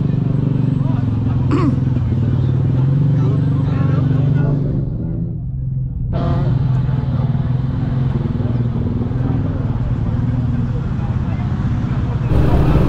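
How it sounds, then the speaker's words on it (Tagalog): Many motorcycles gathered for the 10th Ilocos Sur Invitational Ride in Ilocos Sur, their engines making a loud, continuous close-up drone with a murmuring crowd underneath. "Ayan, napakadaming motor ngayon dito mga boss."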